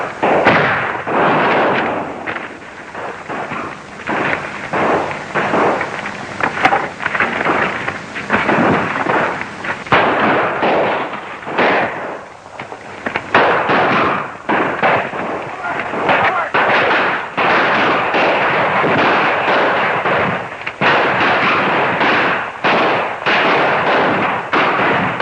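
Guns fire in a 1935 film serial, dense repeated booming and crackling bursts that run continuously and loudly, with voices talking over the barrage at times.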